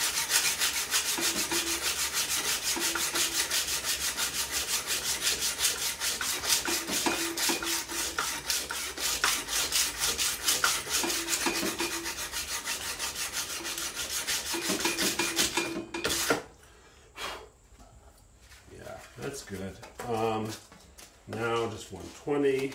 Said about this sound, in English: Maybe I'll hit it with a 60 grit real quick just to see what that'll do.